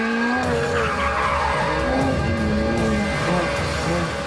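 A Ferrari 430 Scuderia driven flat out around the Ferrari test track, its engine note loud and rising and falling as it revs through gears, with tyres squealing and skidding through the corners throughout.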